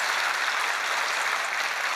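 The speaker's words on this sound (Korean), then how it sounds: "우리 모두 함께 감사의 박수를 드리겠습니다." A church congregation at a Thanksgiving worship service gives a round of applause in thanks: dense, even, continuous clapping from many hands, fairly loud and close, with no voices over it.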